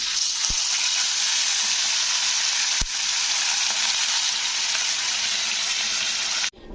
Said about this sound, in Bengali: তো চলো এবারে মাছগুলোকে একে একে ভেজে নিই